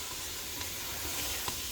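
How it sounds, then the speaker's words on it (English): Chopped onions and peas sautéing in melted butter in a pot for navy-style homemade potato soup, giving a steady close sizzle and hiss with faint stirring ticks. "So I just kind of get this in there and let it saute for a couple minutes"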